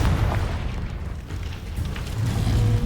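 The Confringo explosive spell going off in Hogwarts Legacy, a heavy rumbling blast with deep booming low end that fills the short clip, loud and close with no talk.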